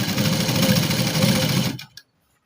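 A sewing machine runs a continuous stitching pass along a blouse yoke strip, a steady close mechanical whir for under two seconds that then stops abruptly.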